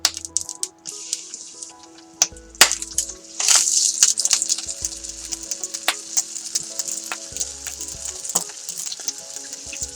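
Brussels sprouts set cut side down in a hot pan, sizzling and crackling steadily with scattered sharp pops and clicks of placement, loud and close with no voices.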